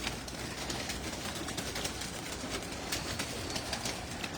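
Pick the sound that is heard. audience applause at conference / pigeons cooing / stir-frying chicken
pigeons cooing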